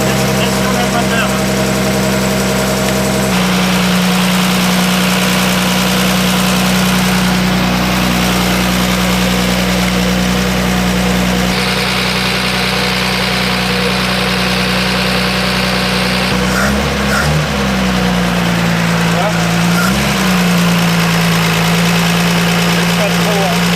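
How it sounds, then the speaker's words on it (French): Talbot Lago T150C six-cylinder engine idling during restoration, a loud steady low rumble with a strong hum that shifts level partway through and dips briefly as revs wobble near the end, close up, with people talking nearby. "Laisse tourner le moteur."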